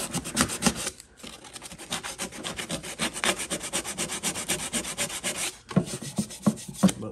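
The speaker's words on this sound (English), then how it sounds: "Start rough, 120 grit, and walk our way down my pile of sandpaper" A wooden gun stock for a custom Browning Auto 5 shotgun is sanded by hand with 120-grit sandpaper, giving steady back-and-forth rasping strokes in a brisk rhythm, close and fairly quiet, with a brief pause midway.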